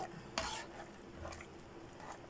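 A spoon stirs red lugaw rice porridge seasoned with crushed pepper in a pot, giving a faint, soft scraping and sloshing with a brief clink near the start and quiet bubbling beneath, no voices.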